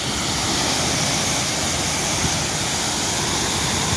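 Water released through a single opened gate of a rain-swollen dam roars as a steady, loud, unbroken rush of turbulent flow, close by and with no voices over it.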